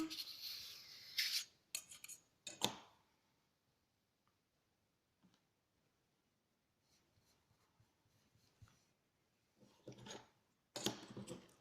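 Polymer clay being scraped with a flexible blade, short rasping scrapes in bursts at the start and end, with quiet gaps and faint small scratches between.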